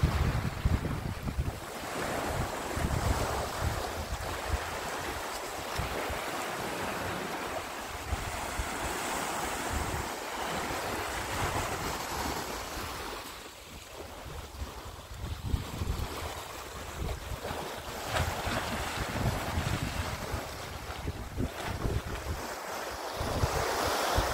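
Sea waves wash onto the shore in a continuous surging roar mixed with heavy wind buffeting the microphone, loud and unbroken with no voices.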